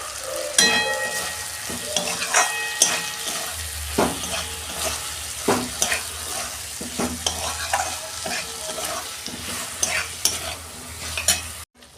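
Bottle gourd and prawns being sautéed in a pan, a constant close sizzle with repeated spoon scrapes and clatters against the pan in an irregular stirring rhythm, no talking.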